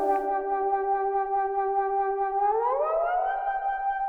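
A sustained, buzzy synthesizer note holds steady, then glides upward in pitch and settles on a higher note, with vibrato on the tone.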